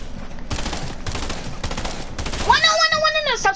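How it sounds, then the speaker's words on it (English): An SMG in a first-person shooter game fires in rapid bursts, several rattling volleys close and loud, closing with a sharp electronic effect. "Stop spamming me with your SMG,"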